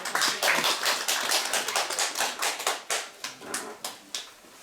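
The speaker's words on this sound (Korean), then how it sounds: "박수를 맞이해 주십시오" Audience applause in a lecture room welcoming a former school principal to the podium, a dense burst of hand claps that thins into scattered individual claps over a few seconds, with no talking.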